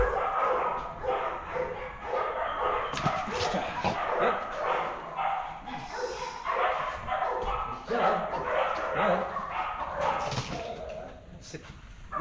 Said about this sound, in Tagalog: Ito, kagandaan itong aso ito.